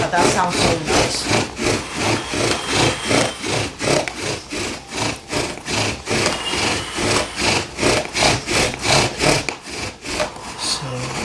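A bow drill spins against sassafras wood in a fast, even back-and-forth rhythm of raspy friction strokes, close and steady for the whole stretch with no talk.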